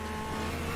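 Onboard in a racing game at Sepang, a V12-based Ferrari race car engine holds a steady, close, high-revving harmonic howl for a brief moment.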